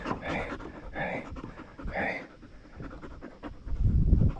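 Two dogs panting after a kayak outing, rapid breathy bursts close by, with a person talking to them throughout and louder rustling near the end.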